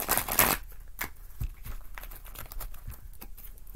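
Tarot cards being shuffled by hand in a series of quick riffling and patting bursts, close and fairly loud, with a sharp crisp flurry at the start and softer irregular shuffles after it.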